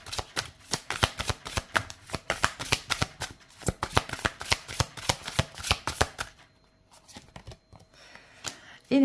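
Oracle cards being shuffled by hand in rapid, rhythmic riffling bursts for about six seconds, close and crisp, then a quiet pause before a short voice at the end.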